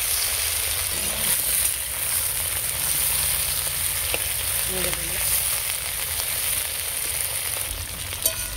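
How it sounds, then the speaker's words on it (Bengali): Mashed potato fries in a pan with a steady, even sizzle that holds close and constant throughout, with occasional faint stirring and no speech. "আলু বাটা ভালো করে ভেজে নেব।"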